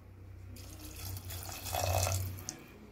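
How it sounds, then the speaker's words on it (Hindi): Water runs steadily into a pot for cooking dal, a continuous close splashing pour that swells toward the end and then cuts off with a small clink. "अब इसमें हम 2 कटोरी पानी डाल देंगे।"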